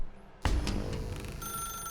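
An old-fashioned telephone bell rings loudly in The Stanley Parable, bursting in abruptly after a near-silent moment and sustaining a bright, metallic trill with no voices.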